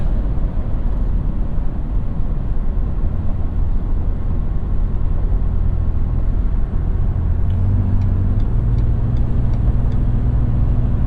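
A 2017 Ford F-150 Raptor pickup truck drives through a sweeping corner at speed, a loud steady low engine rumble and road roar inside the cab with a deeper tone emerging near the end.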